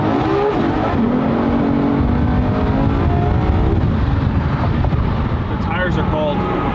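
Lamborghini SVJ engine revving while driving, a loud rising and falling roar with clear gear-pitch sweeps, a person talking over the engine throughout.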